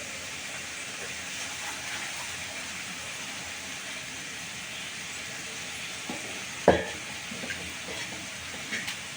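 Brinjal, drumstick and yam sizzle as they sauté in a pan, a steady soft hiss of frying that runs throughout, with one sharp clink of a utensil near the end.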